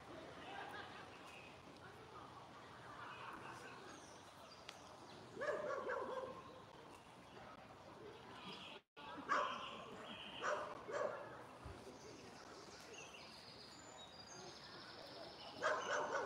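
Dogs bark in a few short bursts on a riverbank near a mill during an evening fishing session, faint and distant in the quiet outdoor air with birds and other soft background noise.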